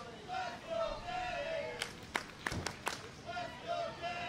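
Crowd at a New South Pro Wrestling show cheering and shouting, with a burst of sharp claps and yells in the middle, under a commentator's voice.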